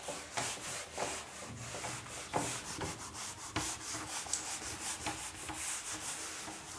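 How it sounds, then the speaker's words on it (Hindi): Someone wipes a classroom board clean with quick, repeated scrubbing strokes, a dense run of rough rubbing that carries on steadily and loudly with no talking. "चलिए ये चीज़ें मैं रब कर देता हूँ"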